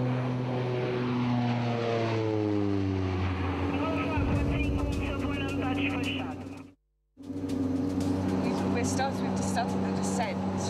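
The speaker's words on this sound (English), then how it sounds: "then the plane will start to spiral down" Steady loud propeller airliner cabin drone with shifting engine tones as the plane spirals down on descent, a brief dropout near the end, and a voice talking over it.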